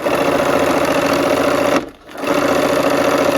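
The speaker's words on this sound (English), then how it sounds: "I'm gonna sew on that line or just a hair over so that it compensates for the thread" A close, loud sewing machine stitches fabric pieces with a fast, even mechanical chatter, briefly stopping for a moment before resuming at the same rapid pace.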